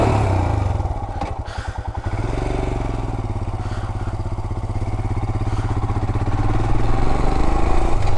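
A 2021 Royal Enfield Himalayan with a 411cc engine runs close by, giving a steady low thumping exhaust throb with some mechanical clatter that grows slightly louder toward the end.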